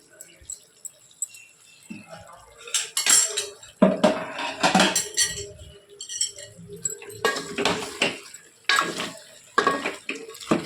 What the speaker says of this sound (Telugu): ఇప్పుడు దీన్ని మంచిగా కలుపుకున్నాం కదా